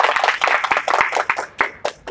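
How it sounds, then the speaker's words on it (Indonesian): Audience clapping and applauding at an Indonesian youth GenRe program event in East Java, a dense burst of many hands that stays steady and loud throughout before thinning slightly at the end. "Tepuk tangan semuanya."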